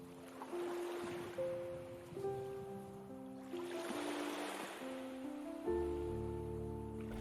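Water flows and washes softly in gentle swells, with calm sustained music tones playing over it.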